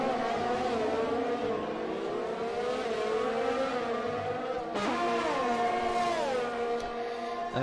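Formula 1 race car screaming down the straight at the Canada round of a racing video game, a high sustained engine whine that climbs steadily, dips briefly at a gear change, then climbs again, alone without talk.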